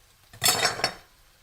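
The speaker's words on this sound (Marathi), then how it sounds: "हा बघा, हा एक मोठा पॅन घेतला आहे." A large metal pan clanks as it is picked up and set down on the stove while cooking a Malvani clam curry, a short bright metallic clatter lasting about half a second, close and alone.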